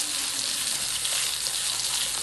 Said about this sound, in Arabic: نقلي بقية السمك مع بعضينا كده